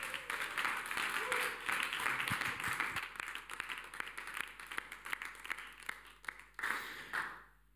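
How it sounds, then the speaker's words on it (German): A church audience gives applause after a German sermon, with scattered, fairly quiet clapping under a background tone that tapers off into a few separate claps near the end. "Lass uns mal all diesen Leuten mal einen riesen, riesen, riesen Applaus geben."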